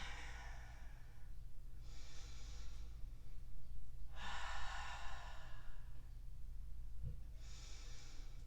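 Slow, deep breathing, long airy exhales swelling and fading in three or four separate breaths a couple of seconds apart, close and soft over a faint low hum, with no talking.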